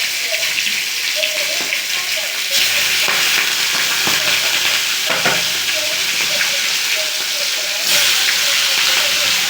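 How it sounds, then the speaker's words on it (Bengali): Large fish pieces fry in hot oil in a pan over a lowered gas flame, making a loud, steady sizzle and hiss with occasional spatula scrapes and clinks. "আমি এবার তেলটা ছেড়ে এই মাছগুলো ছেড়ে দেব।"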